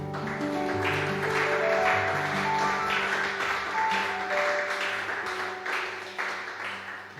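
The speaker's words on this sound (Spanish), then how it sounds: "pues vamos a dar un aplauso al Señor" Congregation in a church applauding, a moderate wash of clapping over sustained tones like an organ or keyboard, with the clapping tapering off toward the end.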